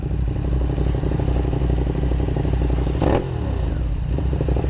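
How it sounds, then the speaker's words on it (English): A Ducati 821 Monster motorcycle engine runs close by with a steady, throbbing idle, broken by a brief clattering scrape partway through. "Ducati 821 Monster."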